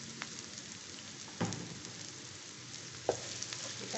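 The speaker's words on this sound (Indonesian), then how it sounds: "Kita tumis hingga bawang merahnya layu ya." Galangal, lemongrass and bay leaves sauté quietly in a pan, a soft continuous sizzle broken by two brief utensil knocks.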